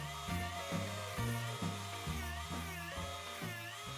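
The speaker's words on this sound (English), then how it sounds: "I started dremeling the edge" A Dremel rotary tool sands the edge of a foam cosplay katana blade, a steady high motor whine that dips and rises in regular pulses as it bites into the foam, close and continuous without talk.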